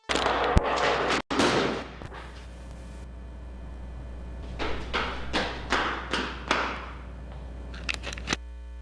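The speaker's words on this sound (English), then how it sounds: "we can hear as the shotgun goes off" Shotgun blast in a horror scene after a camera is thrown down: a sharp loud bang near the start with a brief dropout, followed by a string of softer thuds and knocks.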